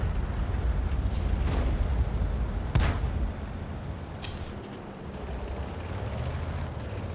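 Tank cannon fire in World of Tanks: one sharp, loud boom near the middle over a steady low rumble of engine and battle noise, with fainter distant shots afterward.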